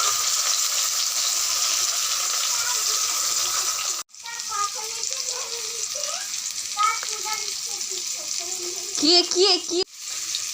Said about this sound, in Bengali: এবার করলাটা ভেজে নেব